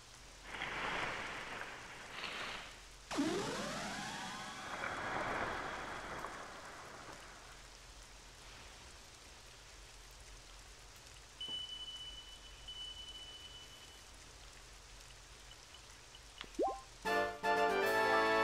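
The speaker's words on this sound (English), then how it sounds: "Unfortunately, it has to be a rainy day" Rain patters steadily across the Korok Forest in The Legend of Zelda: The Wind Waker HD, a soft continuous hiss mixed with swooshing game effects, a chime and a brief musical flourish near the end.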